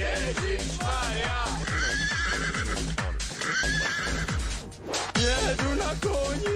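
A horse mount in WoW Classic neighs and whinnies repeatedly over rhythmic clip-clop hoofbeats, loud and close, under a steady game soundtrack with occasional speech.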